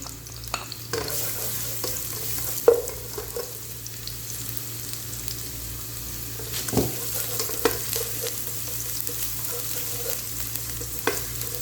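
Steady sizzling of ginger garlic paste frying in hot oil, a continuous crackle with occasional stirring scrapes and clinks of a spoon against the pan.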